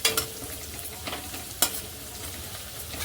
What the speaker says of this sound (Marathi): एक सुकी मिरची पण छान तेलावर परतून घ्यायची अशी